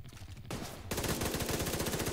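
Automatic gunfire in the video game The Division 2, loud rapid bursts of shots that build into dense continuous fire over a couple of seconds, with no voices.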